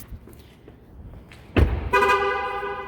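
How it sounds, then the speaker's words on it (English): A 2013 Chevy Volt with 115,000 miles sounds a loud, steady electronic tone warning that the keys are left inside, following a dull thump like a door closing, heard up close over faint background noise. "it warns you if you leave your keys in it too"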